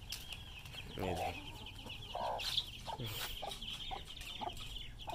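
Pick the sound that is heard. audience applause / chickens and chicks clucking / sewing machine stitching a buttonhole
chickens and chicks clucking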